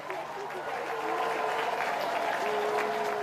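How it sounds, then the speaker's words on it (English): A crowd at a university graduation ceremony claps steadily throughout, a dense patter of applause with a voice speaking over it. "Let's clap for them."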